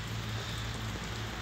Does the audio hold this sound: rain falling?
yes